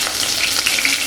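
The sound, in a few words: curry leaves frying with mustard seeds in sesame oil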